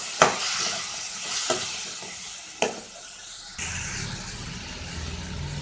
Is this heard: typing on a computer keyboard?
no